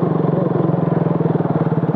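A motorcycle engine drones steadily at low speed while riding through a highway traffic jam on the road to Gangtok near Teesta Bridge, with a pulsing mid-pitched throb and rattling, loud and close.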